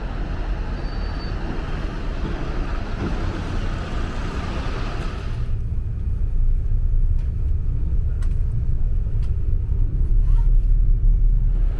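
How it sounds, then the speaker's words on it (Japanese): A night bus pulls in at Akihabara in Tokyo, its engine a loud, steady low rumble that grows heavier partway through as the big vehicle draws close, with faint clicks over the drone. "バスが到着しました。"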